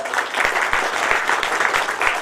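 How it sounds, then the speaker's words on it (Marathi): A crowd at a school felicitation event claps together in loud, steady applause, with fast overlapping hand claps carrying on without pause. "एकदा जोरदार टाळ्या वाजवा"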